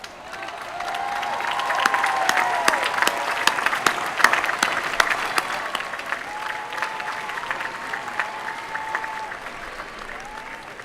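Sustained audience applause at the University of Virginia's 2019 Final Exercises graduation ceremony, a large outdoor crowd clapping steadily for about eleven seconds with a faint spoken voice underneath and the clapping tapering slightly toward the end.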